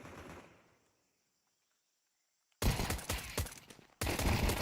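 Bursts of rapid gunfire in a competitive tactical shooter esports match, loud and dense, stopping after a quiet gap then resuming in two heavy volleys.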